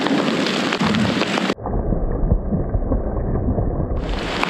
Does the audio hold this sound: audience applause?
no